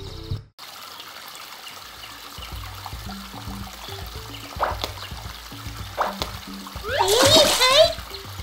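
Splashing through cold water over slippery stones in a cartoon-style children's adventure game, a burst of wet splatter rising near the end over a steady background of game music and ambient effects, with a child-like voice talking.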